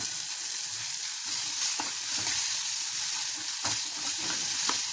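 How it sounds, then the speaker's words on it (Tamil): Steady sizzling and crackling of spices frying in a hot pan, with a few soft stirring clicks, close and continuous. "இதை நல்லா வதக்கி தண்ணி ஊற்றி கொதிக்க வச்சுக்கிறோம்"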